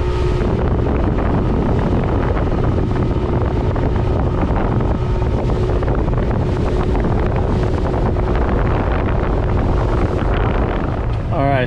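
Motorboat running at speed across open water off Gasparilla, a steady, loud roar of engine, hull slap and rushing wind that fills the whole stretch without pause.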